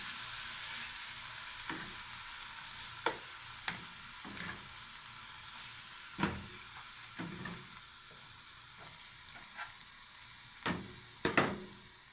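Sautéed sofrito with cherry tomatoes frying in a pan makes a soft, steady sizzle, broken by intermittent clacks of a utensil stirring and scraping.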